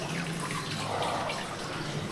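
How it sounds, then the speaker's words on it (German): Water dripping in a damp, lime-encrusted disused railway tunnel, a steady wet trickle and patter echoing close by, no talk. "Und es tropft mir auf den Rücken."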